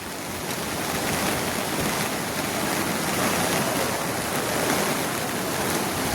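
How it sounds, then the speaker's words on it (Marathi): Steady, loud rush of a flooded river's turbulent water in Panderi village, Konkan, a broad continuous roar with no pauses, close by and filling the whole stretch. "किती भयंकर असा पूर आलेला आहे या नदीला"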